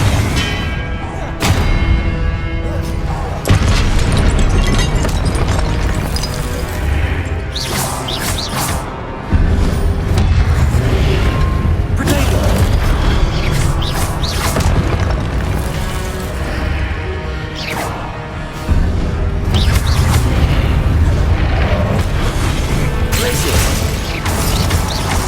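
Confringo blasting spells go off repeatedly in Hogwarts Legacy, a loud, dense run of crashing explosions and clattering impacts that barely lets up across the stretch, with a few brief gaps between bursts.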